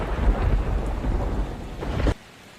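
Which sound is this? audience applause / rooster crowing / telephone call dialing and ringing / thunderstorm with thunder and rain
thunderstorm with thunder and rain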